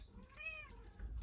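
A cat meows once inside a parked van, a clear, rising-and-falling call heard close by over a quiet background.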